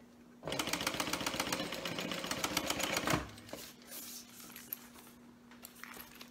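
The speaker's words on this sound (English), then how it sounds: "And when you top stitch, you can start and stop at the end of the fabric now." A sewing machine top stitching a seam runs steadily for about three seconds of rapid, even stitching, then stops, leaving a quiet room with small handling sounds.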